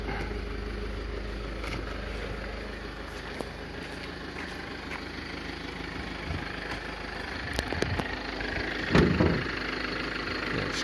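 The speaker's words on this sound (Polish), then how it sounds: "To jest, wiadomo, diesel, tak to chodzi." A Toyota Avensis diesel engine idles with a steady, even rumble, heard close by and alone, with a few faint clicks and knocks toward the end.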